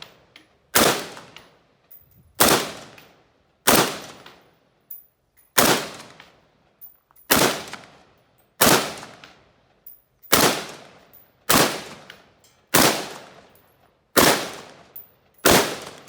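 An XM16E1 rifle fires single shots on a range, about a dozen sharp loud cracks at a steady, deliberate pace, each trailing off before the next.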